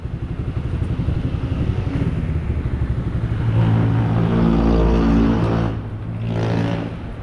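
Big bike motorcycles idling and revving nearby in a parking area, a deep rumbling engine note that swells louder midway before easing off, with no talk over it.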